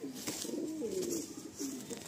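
Madrasi pigeons in a loft give soft, rolling coos, a few drawn-out murmuring calls at close range, fairly quiet over faint background noise.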